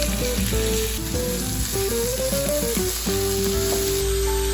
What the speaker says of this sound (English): Next, we're gonna add in about a pound of ground beef.